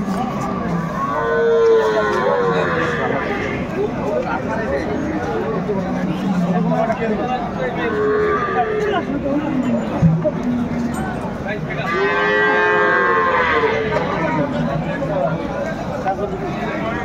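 Cows and calves, dairy breeds at the Aftabganj cattle market in Dinajpur, let out several long, loud moos spread over time amid a steady crowd babble and nearby talk.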